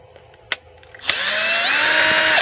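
A cordless battery screwdriver removes screws from a power inverter casing; a faint click comes before the motor starts and runs as a steady, close, high whirring spin to the end.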